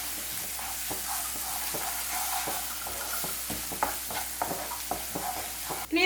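Ground paste being stirred into sizzling egg curry masala in a pan, a steady close frying hiss with repeated scraping strokes of the spoon throughout.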